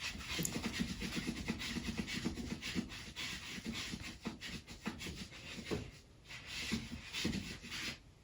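A dog licking its paws up close, wet slurping and rubbing sounds in an uneven steady stream with occasional breathy pants, fairly quiet indoors.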